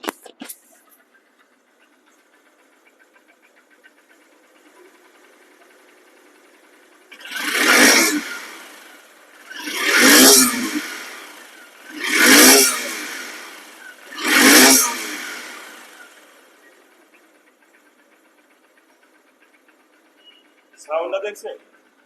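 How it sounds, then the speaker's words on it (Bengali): A near-new Honda SP Shine motorcycle with about 1,000 km on it idles low, then gets four strong throttle revs in a row, each rising and falling, before settling back to idle. "বাইকটির নতুনত্ব আমি কি এমনি এমনি বলতেছি দেখেন তো এখন সাউন্ড কোয়ালিটি শুনুন"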